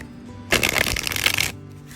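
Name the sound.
shuffling a tarot card deck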